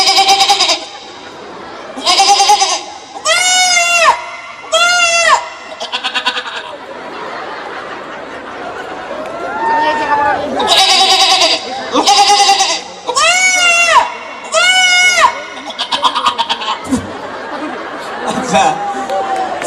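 A performer at a live comedy stage show imitates a goat with a voice, giving repeated loud, wavering bleats in short bursts. Crowd chatter and laughter fill the gaps between them.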